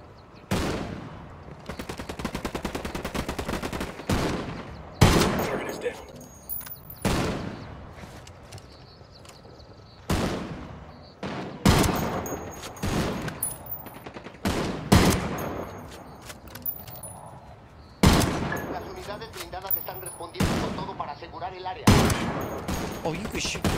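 Gunfire in Ghost Recon Wildlands: loud, sharp shots and rapid bursts spread across the stretch, each cracking and decaying quickly, with short pauses between volleys and quieter background action.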